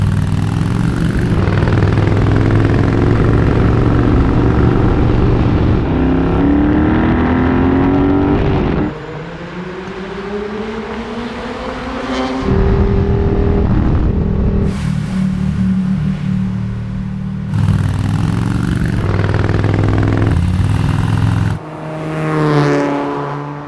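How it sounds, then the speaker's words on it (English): A loud 1974 Ducati 750SS motorcycle engine running and revving, pitch rising and falling across several throttle blips, close by with no talking. "it's a visceral emotion when you hear the engine run"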